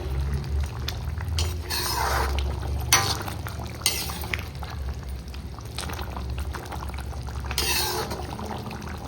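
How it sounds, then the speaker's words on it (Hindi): Water poured into a simmering vegetable gravy in a home kitchen, a steady splashing pour with occasional clinks of utensils, continuous and fairly close. "तो ग्रेवी के हिसाब से पानी डाल देते हैं।"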